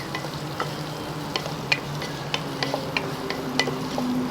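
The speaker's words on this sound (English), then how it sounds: "just put little salt and saute it" Raisins sauté with salt in a pan alongside cashews for pineapple fried rice, giving a low, steady sizzle punctuated by light spatula taps and clicks against the pan, close up with no speech.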